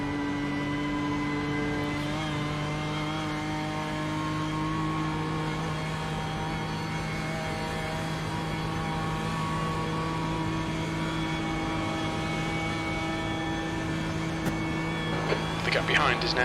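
A race car lapping at the Nurburgring 24 Hours, its engine a steady in-car drone with a brief pitch shift early on, running continuously beneath occasional talk.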